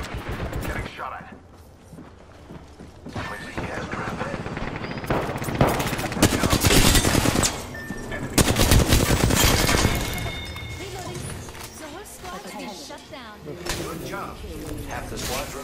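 Rapid automatic gunfire crackles through a squad-based shooter video game with bursts of fire and scattered single shots, dense and loud throughout, with game voice lines and talk mixed in.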